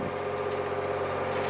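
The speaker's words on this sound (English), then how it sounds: "Listen to the engine." A narrowboat engine runs steadily on a canal, a close, even diesel drone at constant revs with no other sounds over it.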